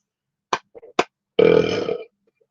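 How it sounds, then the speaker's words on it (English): A few short sharp noises, then a single deep, rumbling burp lasting over half a second, close and fairly loud, followed by quiet. "Just one, not loud burp, but so much volume that almost puffed my cheeks out."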